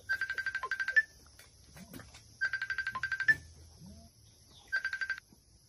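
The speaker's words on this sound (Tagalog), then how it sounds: "Nitingog yung cellphone!" A cellphone ringtone trills in three bursts of rapid warbling beeps separated by pauses, loud and close, with faint rustling and a soft voice between rings.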